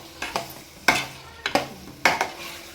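Chicken vindaloo being stirred and fried in a pan, with repeated scraping strokes of a spoon against metal at a steady rhythm over a soft sizzle, close up.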